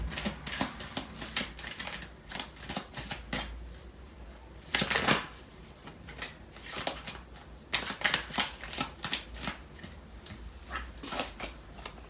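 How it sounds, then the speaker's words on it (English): Tarot cards are shuffled and pulled for a love reading, giving repeated close, crisp riffling and flicking bursts in irregular clusters with brief quieter gaps between them. "I'm going to pull out some cards for the relationship."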